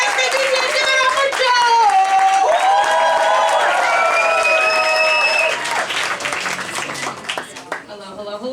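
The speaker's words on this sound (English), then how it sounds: "All right, I want to hear some applause. Keep it going for your next vacation." A comedy graduation show audience claps and cheers loudly, with whoops and voices over the sustained applause before it thins out toward the end.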